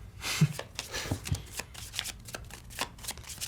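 Pandemic Legacy Season 2 board game cards being shuffled up close in a run of quick riffling and slapping bursts, with some louder taps of the deck.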